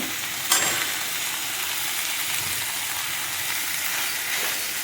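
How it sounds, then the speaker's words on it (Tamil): Green chillies, onion and tomato sauté in a pan for a Tamil chapathi kurma, giving a steady, close sizzle with a brief stirring scrape near the start and no talking. "நல்லா தக்காளி மசிகிற அளவுக்கு நல்லா கொஞ்சம் நேரம் நல்லா வதங்கட்டுங்க."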